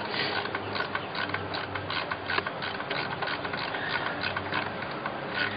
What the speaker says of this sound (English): all I'm going to put in here right now is 1 screw, just enough to hold it into place